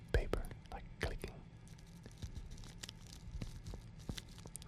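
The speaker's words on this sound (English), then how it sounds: "You can hear the tea bag inside being all crispy. And you can also hear the paper like clicking." Crispy tea bag paper crinkles and clicks close to the mic in quiet, sharp bursts, with soft whispering in between.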